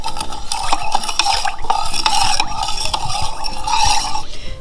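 A spoon stirs a General Tso sauce of white vinegar and cornstarch in a bowl, with loud, close, rapid scraping and clinking against the sides.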